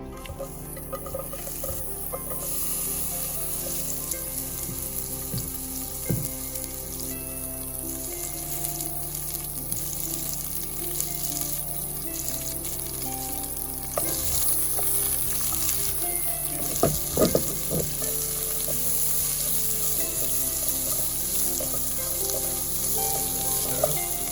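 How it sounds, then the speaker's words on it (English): Onions sizzle in a pan with fish oil, salt and turmeric for a coconut milk salmon curry, a continuous loud frying hiss with occasional stirring clatter. "We're gonna sweat the onions now."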